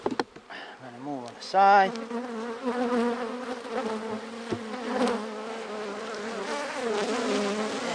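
Honey bees buzz during a September hive check, a steady insect hum running under a person talking close by while frames of honey and pollen are handled.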